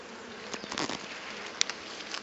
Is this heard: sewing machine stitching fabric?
no